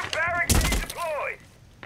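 An impact grenade goes off in Rainbow Six Siege on the Bartlett U map: one sharp, close, crunching blast with a deep thud, set between bursts of a player's voice.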